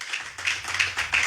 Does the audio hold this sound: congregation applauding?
yes